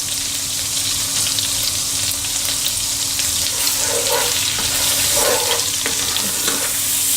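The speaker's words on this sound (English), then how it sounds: "So we're just going to let the butter melt." Butter melting in a hot pan ahead of adding flour for a roux, a steady close sizzle with faint stirring and light clinks running throughout.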